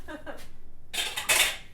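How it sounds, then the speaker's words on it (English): Dishes and cutlery clatter as they are put away in a home kitchen, a brief burst of clinking and scraping following a quiet stretch, with a voice faintly present earlier. "So I'll put the dishes up."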